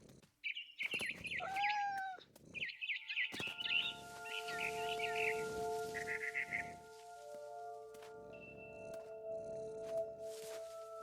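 A frightened bird chirps and squawks in the video game What Remains of Edith Finch, with a burst of sharp, rising calls near the start, then quieter chirps over steady tonal game sounds.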